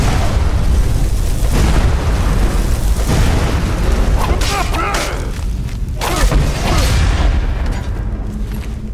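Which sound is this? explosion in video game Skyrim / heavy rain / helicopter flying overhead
explosion in video game Skyrim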